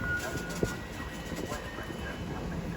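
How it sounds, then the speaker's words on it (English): Elizabeth Line service running from Abbey Wood to Maidenhead passes through West Ealing station on the Great Western Main Line, heard as a steady faint rumble with one brief clack partway through. "As we now find ourselves a Elizabeth Line service passing from Abbey Wood to Maidenhead"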